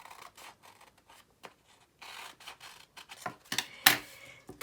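Scissors snipping into a paper card to make a pop-up window, a string of soft, close crisp cuts and rustles that grow louder toward the end, with no talking.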